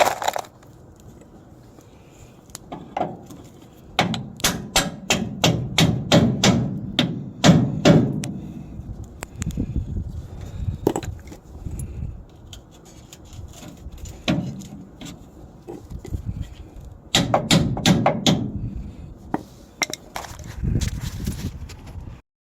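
Hammer blows driving a bushing into place on a race car, using a tie rod as a makeshift punch, in sharp metallic clusters of rapid strikes with pauses between bursts, close and loud.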